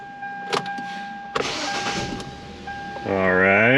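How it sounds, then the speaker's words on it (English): A 2012 Hyundai Elantra 1.8 with a no-crank fault is started: clicks and brief whirs come first, then the engine catches near the end and settles into a loud, steady run, with faint ambient noise throughout. "Beginning engine starting sequence now."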